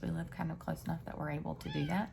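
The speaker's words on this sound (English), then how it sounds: "that's my cat" A pet cat meows repeatedly close to the microphone, short rhythmic calls mixed under a person talking at home.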